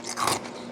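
Nugget ice from a countertop ice machine crunches in a single close, sharp bite with a short, brittle crackle that quickly fades.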